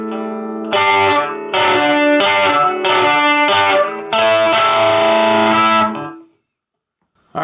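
Distorted electric guitar plays a riff in standard tuning, slightly off-key, through a Fender Champion 20 practice amp with effects. Loud chugging chord bursts with short gaps run for about six seconds, then ring out into silence.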